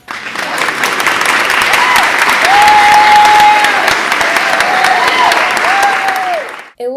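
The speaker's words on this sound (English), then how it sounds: "Can we get some applause?" An audience bursts into loud, sustained applause, a dense and even wall of clapping that holds steady for several seconds before cutting off abruptly, with faint voices mixed in.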